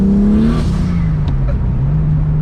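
A car with a built engine pulls away on barely any throttle, its exhaust note loud and close, rising in a smooth rev before settling into a steady drone with some whir.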